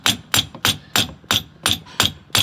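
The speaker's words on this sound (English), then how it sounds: "Using a hammer handle here" Sharp metallic taps from a hammer handle striking a silo unloader, eight evenly spaced hits about a third of a second apart, each ringing briefly, close and loud with no voices.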